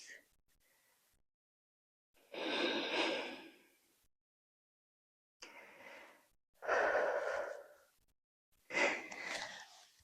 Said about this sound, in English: Exhale out the mouth, taking your breath away from your Ujjayi breath.